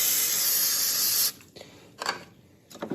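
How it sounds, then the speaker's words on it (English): A single sustained hiss of silicone spray from an aerosol can, applied to the fuel filter hoses of a VW TDI, lasting just over a second, close and bright, followed by faint handling clicks and rustles. "Give it a little spray."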